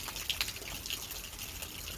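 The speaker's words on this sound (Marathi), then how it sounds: "ते आपण पाण्यामध्ये ओतून घेत आहोत." Farm decomposer liquid is poured into water, making a faint, steady splashing trickle with a few brighter drips near the start.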